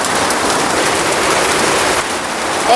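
Heavy rain falls at a village outdoor cooking spot, a loud, dense, continuous patter that holds steady without pause.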